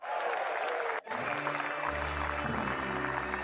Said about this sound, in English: All right, Amster, I got an applause for you. Here's from our new soundboard.